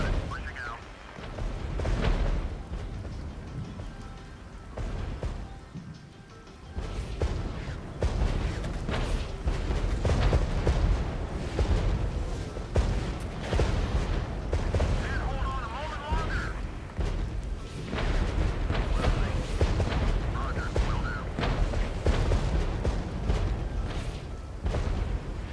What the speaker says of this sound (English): This artillery is just ridiculously relentless.